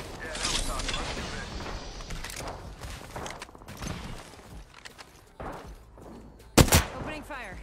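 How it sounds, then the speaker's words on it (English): Bursts of PK machine gun fire in a video game ring out among thumps, clatter and voices chatting, with one sharp loud blast near the end. "Opening fire."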